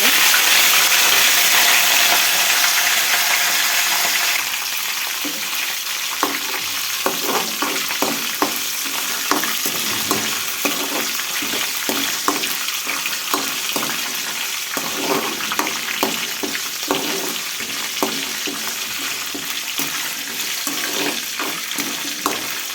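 Curry leaves, cumin and dried chillies hit hot oil as a tempering, a loud burst of sizzling that settles into steady crackling with spoon stirs, close and without speech.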